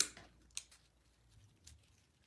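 Scissors snip through lavender and eucalyptus stems while a wreath is being made: a few quiet, sharp cuts, spaced apart and close by, in an otherwise quiet room.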